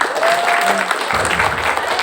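An audience applauds at a seminar-style gathering, a loud, sustained burst of many hands clapping close by, with a brief whistle-like tone early on and a rise in low crowd rumble partway through.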